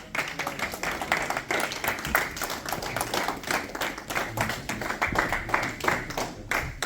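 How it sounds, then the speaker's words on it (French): An audience at a reception for the Congolese ambassador in London claps steadily and loudly throughout, a dense, continuous round of applause from a room full of people. "Est-ce qu'on peut bien applaudir pour notre ambassadeur?"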